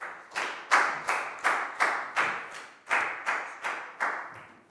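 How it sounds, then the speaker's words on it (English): A classroom claps for a pupil named Pat in a Year 4 English lesson, about a dozen sharp, evenly spaced claps in a quick steady rhythm, close and clear with no talk. "High five and a big round of applause for Pat"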